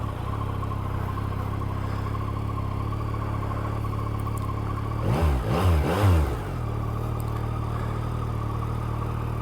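A 2024 Yamaha MT-09 Y-AMT motorcycle fires up after a steady low hum, its engine catching with a loud, close burst of rising and falling revs before settling back to a smooth idle.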